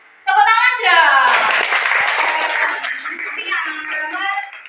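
Students in an Indonesian classroom break into group hand clapping for the winning team during a physics lesson on heat and changes of state. Dense, fairly loud clapping runs for several seconds, with a voice and other speech heard at the start and end.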